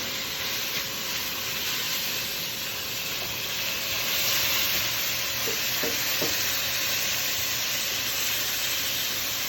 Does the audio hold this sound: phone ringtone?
no